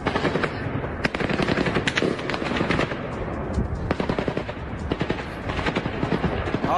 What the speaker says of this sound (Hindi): देखिए जरा किस तरह से गोली चलाई है रूसी सैनिकों ने आम लोगों पर गोली चलाई है।